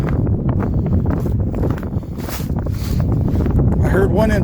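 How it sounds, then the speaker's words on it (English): Steady wind noise buffeting an outdoor airgun shooting range on a snowy day, a continuous broadband rush that swells and gusts close to the microphone throughout. "Just a hair of wind today."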